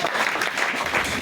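A church congregation applauds together, a dense, steady wash of clapping that stays loud and even throughout without any break.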